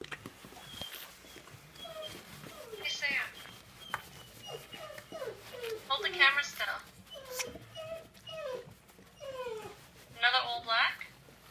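A newborn puppy whimpers close by in thin, high, repeated whines and squeaks that come in bursts, while people talk quietly around it.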